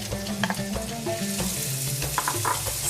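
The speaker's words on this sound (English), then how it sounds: "Saute until soft." Chopped onion sautés in hot vegetable oil for kibbeh stuffing, a close, steady sizzle with brief stirring scrapes and clinks on top, no voices.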